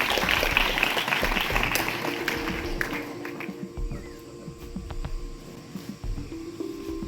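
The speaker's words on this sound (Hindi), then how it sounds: "वेल डन, तालियां" Schoolchildren clap for a classmate's correct answer in a Labour Day class, the applause dense at first, then tapering off into quieter scattered sounds and room noise.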